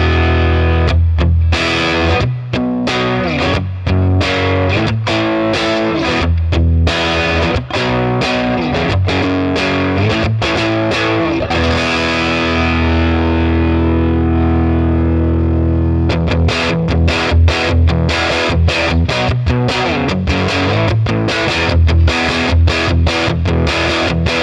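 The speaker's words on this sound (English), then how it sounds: "I'm going to crank up the volume a little bit to give a little bit of an overdriven sound" An electric guitar runs through a Milkman Sound Half Pint 5-watt amplifier cranked into overdrive, giving a loud, continuous distorted tone with chords and single notes, a brief sustained passage in the middle, then renewed choppy strumming.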